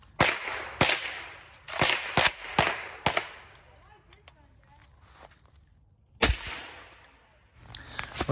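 A suppressed PSA AR-10 .308 rifle fires a series of sharp, loud reports in quick irregular bursts, followed by a quieter gap and then more shots.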